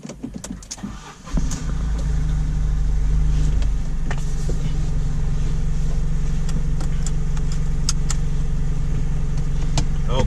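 A Fiat 500 pulls away on its first test drive, the engine building to a steady, loud drone that holds with a constant low hum after a brief start and a few clicks.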